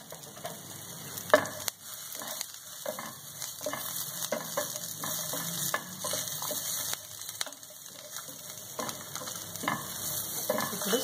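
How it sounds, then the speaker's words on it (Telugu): Ajwain rice with asafoetida frying in a pan, a continuous close sizzle with light crackles and occasional sharp scrapes of stirring, steady throughout. "కొంచెం వేగనిద్దాము"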